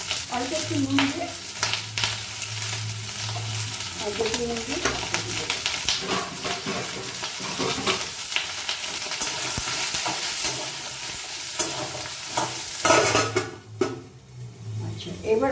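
Ridge gourd fries in hot oil in a wok with a little salt for Bengali cooking. Continuous close sizzling is punctuated by stirring scrapes and utensil clinks, with brief talking in places.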